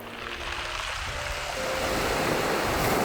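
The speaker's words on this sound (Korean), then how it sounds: "파도가 칠 때마다 동글동글한 몽돌들이 부딪히며 내는 소리가 아름다운 곳입니다." Waves wash over round, smooth pebbles on a beach of Gaedo island near Yeosu, a loud, close surf that builds into a broad rushing wash without any speech.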